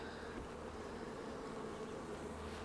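Honeybees buzz around a full honey super on a beehive, drawing comb up into the inner cover, a dense steady hum close by and continuous throughout, with no talking.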